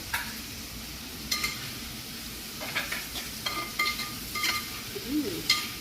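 Chili powder and garam masala fry in a pan for a prawn and pointed gourd curry, a soft steady sizzle with light stirring scrapes and clicks of a utensil, close and fairly quiet.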